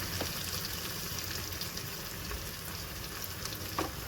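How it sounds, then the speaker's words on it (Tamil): Ginger garlic paste frying with onions in a pan for biryani, a faint, even crackling hiss that holds steady throughout with a couple of small pops, no voices. "இப்போ நம்ம வந்து இஞ்சி பூண்டு பேஸ்ட்டு சேர்த்துக்கலாம்"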